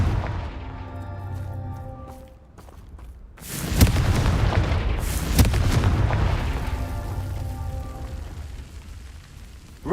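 Confringo fire spell explosions in Hogwarts Legacy: loud booming blasts mid-clip over a continuous game music and ambience bed, with sharp bursts near the middle and a sustained rumbling roar.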